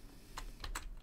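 A computer keyboard key is pressed in an indie game to regenerate the level, with a few soft, quiet clicks, one alone and then a quick pair, over faint background hiss.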